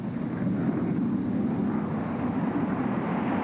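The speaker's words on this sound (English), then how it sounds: "The point of the spear, the F-15 Eagle, the match of any fighter in the air." Steady, loud roar of a Gulf War-era F-15 Eagle fighter jet, a continuous broadband engine rush that holds level without a break.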